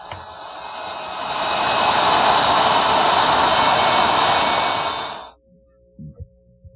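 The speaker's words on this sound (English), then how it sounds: "I have a 1/4 inch round nose bit in my router, and I'll just plow out enough material for that barrel" A router fitted with a 1/4 inch round nose bit whines loudly and steadily while plowing a groove in wood for about five seconds, then cuts off and spins down, followed by a few faint knocks.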